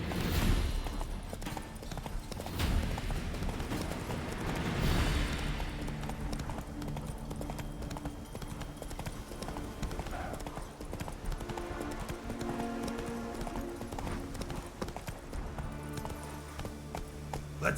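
In The Witcher 3, the horse Roach gallops with fast, rhythmic clip-clopping hooves that run continuously throughout, set against game ambience and music, with a brief voice near the start.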